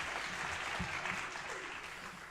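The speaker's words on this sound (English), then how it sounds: "We can clap for that." An audience applauding student athletes at an awards ceremony, steady clapping from a crowd for a couple of seconds.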